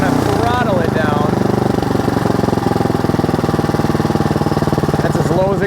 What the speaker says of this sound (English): from here to power it down, I'm going to throttle it down